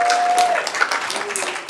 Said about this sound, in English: So big round of applause for all of our amazing poets.